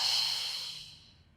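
A single close, breathy exhale during a Pilates core exercise, a soft hissing rush of air that starts strongest and fades away over about a second.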